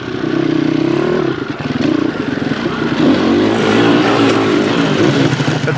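A dirt-bike motorcycle revs and runs on a freshly prepared jump track, its engine droning loud and close throughout with rising and falling pitch and some clattering.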